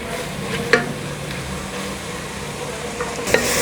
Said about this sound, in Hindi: अब इसको हमने हल्का सा चूल्हा तेज़ करके ना तो इसको भून लेना है।